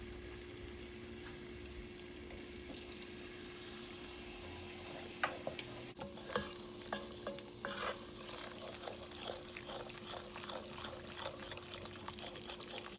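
A roux stirred in a hot pan, with steady sizzling frying and scraping strokes that grow louder and busier midway, close and clear with no talk.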